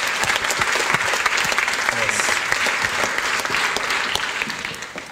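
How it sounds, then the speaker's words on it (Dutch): Dense, loud applause from a debate audience fills the room for about five seconds, steady and unbroken, honoring the debaters at a 2017 Dutch election foreign-affairs debate. "graag een hartelijk applaus voor de debaters van vanmiddag"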